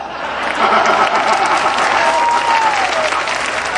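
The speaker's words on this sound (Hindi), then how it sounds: "जोरदार तालियां भाई, क्या बात है।" Loud, sustained applause from the audience at a Hindi poetry recital (kavi sammelan), dense steady clapping close up with crowd noise and a faint tonal whistle over it.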